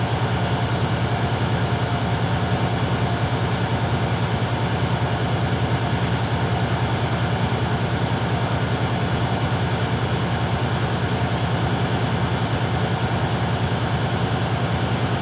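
Steady low rumble of a truck engine idling at low revs while the air brake tank fills, loud and constant throughout with no talking over it.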